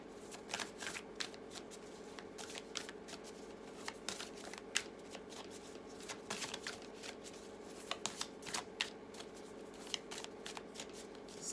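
A deck of tarot cards is shuffled by hand continuously, giving a steady riffling patter of soft flicks and slaps with occasional sharper snaps, close and quiet, no voice.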